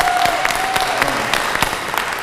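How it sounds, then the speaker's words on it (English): Audience applause fills a room at an anniversary celebration for a center, a steady wash of clapping from a modest crowd with a few sharper claps standing out, close and continuous throughout. "Can we give Alex Spriggs a big round of applause?"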